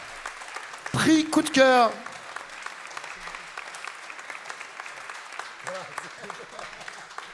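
An audience at a music contest award ceremony applauds continuously, a steady wash of clapping that carries through the whole stretch while a presenter speaks briefly over it near the start.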